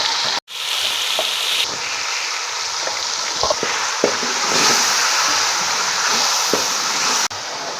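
Chicken pieces frying with whole cumin seeds in a hot pan, a loud continuous sizzle with a sharp clatter at the start and a few scrapes and knocks of stirring, no talk.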